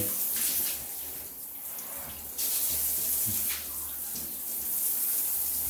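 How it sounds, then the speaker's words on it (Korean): A spray gun fitted to a bathroom shower hose blasts a strong stream of water, used for cleaning a toilet in a small remodeled bathroom; a close, steady rushing hiss swells and eases in surges, with no talking. "조금 더 세게 앞을 풀어놓으면 네, 물살, 물살이 센 편이라 가지고"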